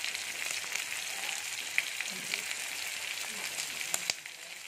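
Onion fries in oil in a pan as a constant close hiss and sizzle with small crackles and an occasional stir.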